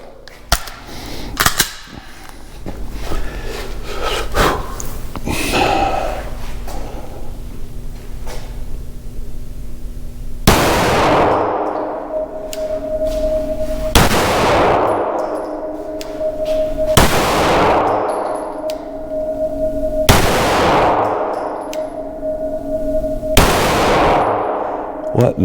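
A standard Echelon pistol fires at 7 yards, with five loud, sharp shots spaced about three seconds apart. Clanks and handling noise from the gun come first.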